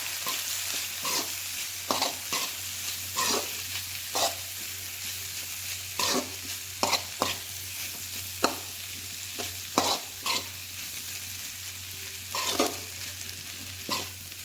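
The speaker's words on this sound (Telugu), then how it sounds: "ఇందులోనే శనగ్గింజల పొడి అది వేసుకుందాం అంతా కలిపేసుకుందాం" Broad beans frying in a pan with peanut powder, stirred in repeated scraping strokes that land at irregular intervals over a steady low hum and a faint sizzle.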